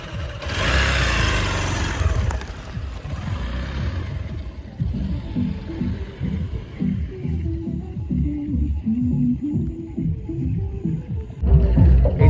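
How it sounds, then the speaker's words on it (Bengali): A motorbike ridden along a dry rural track near the India–Bangladesh border in Murshidabad, its engine a steady low rumble with wind buffeting at the start, close and continuous. "আর এখন আমি বাইক চালাচ্ছি"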